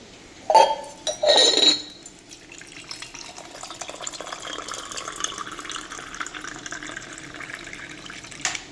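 Dishes clink sharply twice, then a tap runs and water fills a vessel in a steady rushing stream that holds at an even level for several seconds, close by in a home kitchen.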